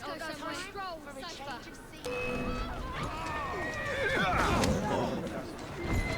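A horse whinnies loudly over clattering hoofbeats in Assassin's Creed Syndicate, with busy game-like ambience and shifting background noise throughout.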